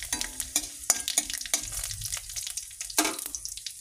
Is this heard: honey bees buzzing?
no